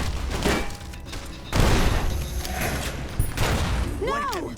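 Gunfire with explosive rounds in the video game Fallout: New Vegas: dense bursts of shots and booming impacts in a continuous fusillade, with a sharp laser-like warble near the end.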